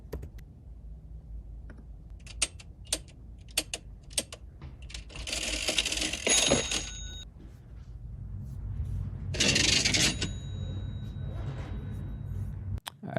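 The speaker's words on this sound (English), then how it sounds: "So let's go ahead and do ka-ching," Cash register ka-ching sound effect: two bright metallic bursts with a ringing tail, each about a second long, set among scattered soft clicks and a low background rumble.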